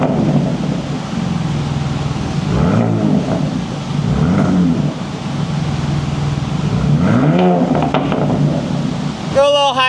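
A Ram RHO pickup truck with an AWE exhaust revs several times outdoors, each rev swelling into a deep rumble and falling away over a constant idle drone, with voices in the background.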